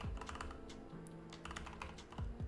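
Close, quiet typing on a computer keyboard: irregular bursts of key clicks and clacks with short gaps between strokes, heard alone without talk.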